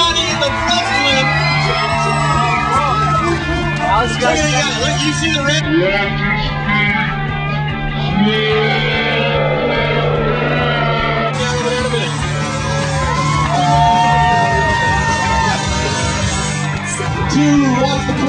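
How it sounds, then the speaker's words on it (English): A fairground crowd cheers and yells at a BMX stunt show, sustained shouting and whoops under an announcer's amplified voice, with steady background hum throughout. "A huge round of applause"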